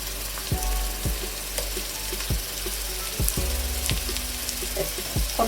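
Ginger, garlic and green chilli paste frying with onions for beef biryani, a steady close sizzle broken by a few sharp spoon knocks against the pan, no talking.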